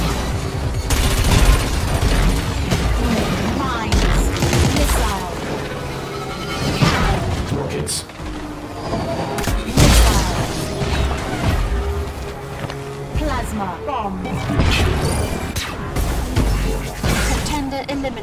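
Rockets, mines and missiles firing during a futuristic anti-gravity racing game session, heard as dense, loud bursts, booms and mechanical clatter over a steady engine roar and music, with a voice speaking intermittently.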